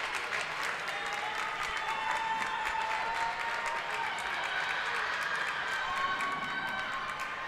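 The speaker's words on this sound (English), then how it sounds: "This crowd is coming alive here in the JD Gym." A crowd in a high school gym cheers and applauds loudly at a girls' volleyball match, sustained clapping and shouting filling the whole stretch at steady volume.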